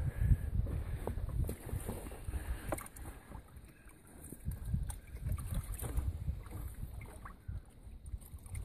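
Water sloshes and splashes in steady swirling bursts, close to the microphone, with a low rumble of movement throughout and no talking.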